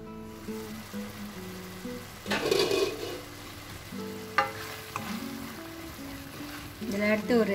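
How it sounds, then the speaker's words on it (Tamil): Chili paste for a fish sambal boils and sizzles in a pan, coming in crackling bursts of moderate loudness over a soft, steady musical backing. "இப்போ இந்த சில்லி நல்லா பாயில் பண்ணணும்"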